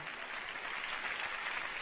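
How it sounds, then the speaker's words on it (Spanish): Steady applause from an audience at a live magic show fills the short span as a continuous, moderately faint patter of clapping. "Un aplauso para mi ayudanta."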